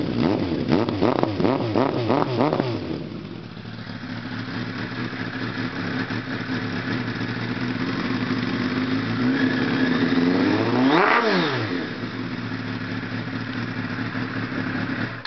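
A motorcycle fitted with a new exhaust revs hard in repeated blips, then settles into a loud, steady idle close by before one more sharp rising-and-falling rev, with no talk.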